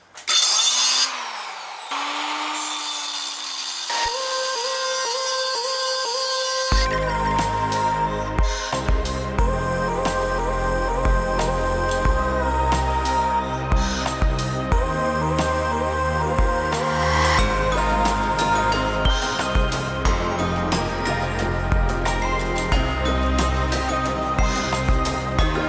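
Power saw cutting through a metal intercooler pipe for an E30 turbo build, a loud continuous grinding rasp that runs for most of the clip after a few seconds of quieter handling noise.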